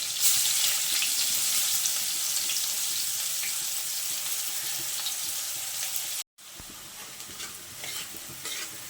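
Chopped green chilli and onion hit a very hot pan on high gas and sizzle steadily with stirring scrapes, then a brief cut leads into quieter frying.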